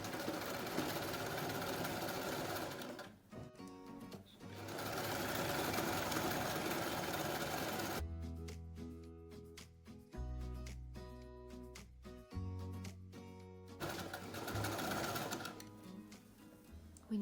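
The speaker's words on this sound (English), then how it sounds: "I'm going to sew to the end, attaching the neckband to the chin strap." A sewing machine stitches a pressure-garment neckband onto a chin strap, running in long, steady whirring stretches close by and pausing in between, then giving way to quieter mechanical hums.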